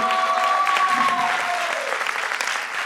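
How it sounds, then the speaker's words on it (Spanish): An audience at an improv comedy show claps loudly together, a dense burst of applause that holds for a few seconds, with a voice carrying over it. "Un forte aplauso para él."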